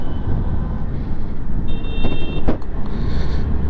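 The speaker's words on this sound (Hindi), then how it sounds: "सबसे पहले भाई स्कूटी का ना अपन चेक कर लेते हैं थ्रॉटल रिस्पॉन्स कैसा है" A Suzuki Avenis 125 scooter on a test ride as the throttle is worked, a loud, continuous engine and road roar that swells slightly mid-way with brief tonal whines, no voices.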